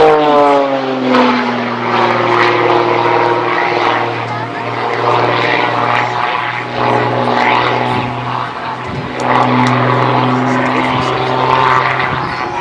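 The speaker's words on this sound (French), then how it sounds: "Parlons un peu de cet avion, l'Extra 330." A loud propeller engine of an Extra 330 aerobatic airplane drones steadily nearby at an air show, its pitch rising and falling as the plane passes and maneuvers overhead.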